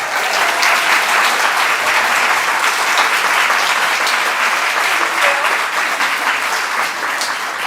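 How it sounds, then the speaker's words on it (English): A large audience at a talk on gardening applauds loudly and steadily, a dense wash of clapping that holds at full strength for several seconds. "let's give a big round of applause for Jennifer Jewell."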